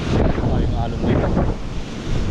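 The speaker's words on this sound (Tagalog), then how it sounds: "Open sea na kasi dito mga master. Kaya ganyan kalaki yung mga alon." Big open-sea waves surge and crash in a heavy, roaring rumble, buffeted by strong wind noise on the microphone, loud and continuous with slight swells.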